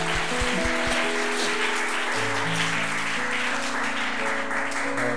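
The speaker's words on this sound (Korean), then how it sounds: "우리 형제들을 위해서 우리 격려하는 박수 한번 칩시다." A church congregation claps in encouragement during a Sunday worship service, a dense steady patter of many hands with sustained organ or keyboard tones ringing underneath throughout.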